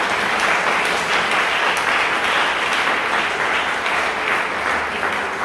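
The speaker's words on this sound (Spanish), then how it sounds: "Demos un aplauso al Señor" A large church congregation applauds loudly and continuously, a dense wash of clapping with no voices on top.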